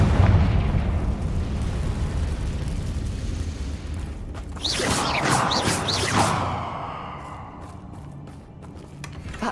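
Confringo fire spell explosion in the Hogwarts Legacy video game: a sharp whooshing burst erupts over a constant rumbling game backdrop, with a bright crackling flare for a couple of seconds before fading into lingering ambience.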